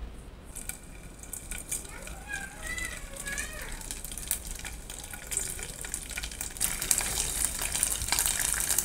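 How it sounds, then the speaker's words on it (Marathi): Cut paneer pieces frying in hot oil give a steady, gushing sizzle throughout, with faint background voices and a brighter, louder hiss building toward the end. "आता मी पनीर तळून घेते."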